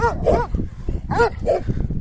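Farm dogs bark at passing cyclists in a rapid series of sharp, close barks and yips, loud and excited, with outdoor noise underneath.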